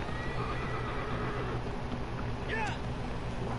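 A horse whinnies briefly near the end in Shadow of the Colossus, a short rising-and-falling neigh over steady ambient noise and hoofbeat-like clatter.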